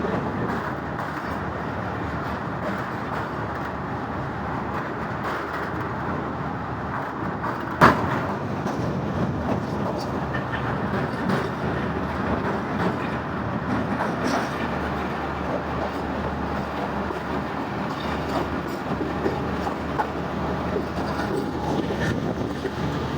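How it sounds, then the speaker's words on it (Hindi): The Thal Express train crosses the old Chenab river bridge: a continuous, rumbling roar of rolling carriages with steady rail clatter and one sharp clank partway through, heard from on board at moderate loudness without talk. "ये पुल बना हुआ है दरियाए चेनाब के ऊपर, जिस पर गाड़ी गुजरती हुई जाती है"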